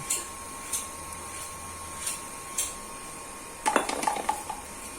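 Fruit fly pesticide is stirred into water in a container, with a few light knocks at first, then a burst of rapid clinking and rattling toward the end.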